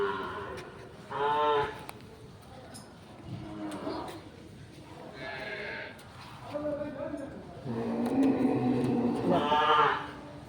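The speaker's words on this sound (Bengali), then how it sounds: "এই যে সমস্ত গোমাতা দেখতে পাচ্ছ গরু" Cattle at a cowshed moo repeatedly, several drawn-out calls spread through the clip with the loudest near the end, while a person talks over them close by.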